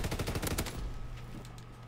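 Rapid burst of gunfire from a PTRS anti-tank rifle in Call of Duty WW2, several sharp shots in quick succession up front, then fading into a quieter tail of game ambience.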